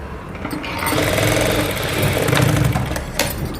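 Sewing machine stitching along both sides of a sleeve, a steady close mechanical whir that runs unbroken and fairly loud for a few seconds, with no talk.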